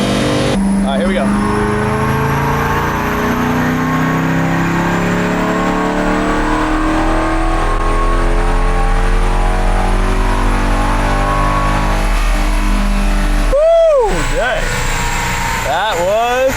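A modded Chevrolet Corvette C8 on a dyno, its engine loud and close as it climbs in a long sweeping rev up to about 6,200 RPM, then cuts off, with blips of revving after.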